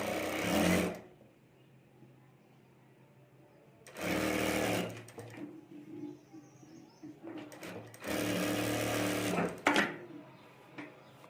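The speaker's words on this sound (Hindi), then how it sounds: "और यहाँ से हमें सिलाई कर देनी है" A sewing machine stitches a lined pocket onto a handmade fabric bag in three loud, steady bursts, with quiet pauses between runs and faint handling noise.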